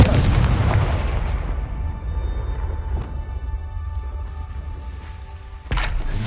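A Confringo fire spell goes off in Hogwarts Legacy, giving a loud booming blast at the start that decays into a rumbling tail, followed by a second sharp burst near the end.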